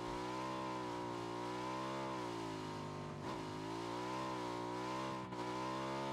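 A motorcycle engine in PlayerUnknown's Battlegrounds drones with a steady, close mid-pitched hum, its pitch wavering slightly and dipping briefly midway as the throttle shifts, with no talking.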